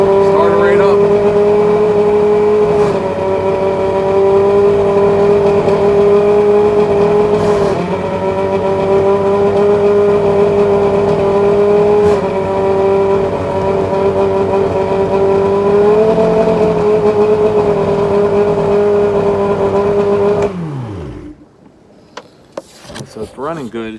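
An outboard boat motor runs steadily at a high idle for about twenty seconds, a loud near drone with a small wobble in pitch, then cuts out abruptly, leaving faint clicks.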